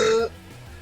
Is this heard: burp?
yes